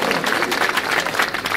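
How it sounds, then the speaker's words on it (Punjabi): Audience clapping at a political rally in Shahkot, a dense, steady burst of applause from a crowd, fairly loud and continuous throughout with some crowd noise mixed in. "ਠੋਕੋ ਠੋਕੋ ਤਾੜੀ ਠੋਕ ਦਿਓ"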